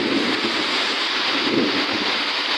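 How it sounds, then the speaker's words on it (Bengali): Loud, steady heavy rain with low rolling thunder rumbling throughout, close and continuous with no voices. "দেখতেছেন খুব জোরে জোরে গর্জন হচ্ছে আকাশে। এই দেখেন বৃষ্টি হচ্ছে, প্রচুর হচ্ছে।"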